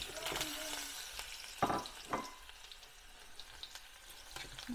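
Fenugreek seeds and pickle ingredients frying in hot oil for a homemade spicy mango pickle, a soft continuous sizzle with a few louder crackling bursts and occasional clinks of a stirring spoon.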